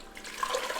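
Water poured into a blender with tomatoes and garlic for a tomato salsa, a short soft splashing pour lasting under a second, fairly quiet and steady.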